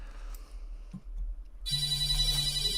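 A telephone rings with a bright, sustained electronic ringtone that starts partway through after a quiet stretch with a few faint knocks, then holds steady and fairly loud to the end.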